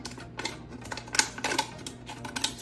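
Quick, uneven snips and clicks of zigzag scissors cutting through a thin plastic water bottle, a close series of sharp crisp bursts with short pauses between them.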